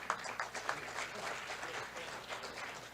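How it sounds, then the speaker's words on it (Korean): Seminar audience at an AI forum applauding, a soft, even patter of many hands heard from a distance for a few seconds. "박수를 한번 해주시죠."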